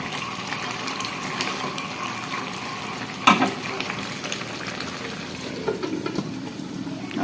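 Rooster curry is stir-fried in oil in a pan, a steady sizzle with scraping stirs, loudest in one sharp knock partway through, and no one speaking over it.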